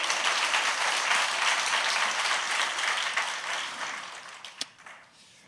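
A church congregation applauds during a thanksgiving worship service, a steady wash of many hands clapping together that gradually thins and fades out, with a few last scattered claps at the end.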